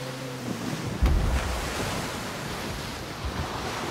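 Surging ocean waves in the video game Skull and Bones roll and rumble continuously with a gusty, windy wash, after a brief electronic tone at the start.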